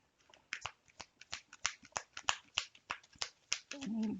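Oracle cards being shuffled by hand: a steady run of about a dozen crisp, papery riffles and slaps, close and fairly quiet, with no talking.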